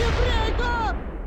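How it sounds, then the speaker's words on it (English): A tank gun firing at a Soviet T-34 in the World War II strategy game Close Combat 3, a loud, dense blast with a rumbling tail that fills the short moment alone. "Ohlmeyer's gun also targets the T-34."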